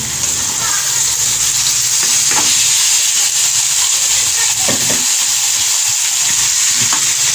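Marinated goat liver fries loudly in a pan for masala kaleji, a dense continuous hiss and sizzle close by, with occasional light scrapes of stirring and no speech.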